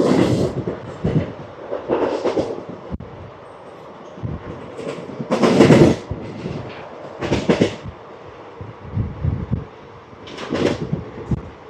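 Palnadu SF Express train running past a small station: a loud, varying rumble with rattling bursts and clattering swells comes and goes over about twelve seconds, heard from on board.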